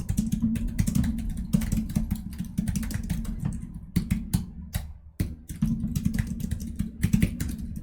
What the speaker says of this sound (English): this is just typing at this point.